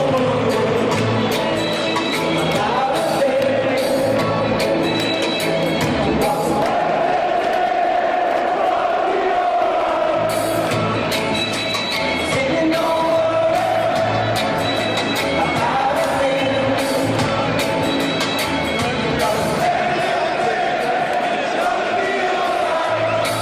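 A football crowd of Chelsea supporters sings a chant, a dense mass of voices that keeps a steady rhythmic swell, loud and continuous throughout.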